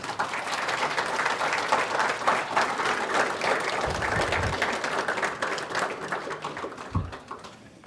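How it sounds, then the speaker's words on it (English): Sustained audience applause fills an honor society induction ceremony, dense crowd clapping holding steady for several seconds with a few low thumps, then gradually thinning and tapering toward the end. "please give yourselves a round of applause"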